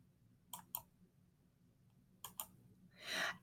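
Computer mouse clicks while a campus page is selected, two quick pairs of faint, sharp clicks in a quiet room, followed by a soft rustle.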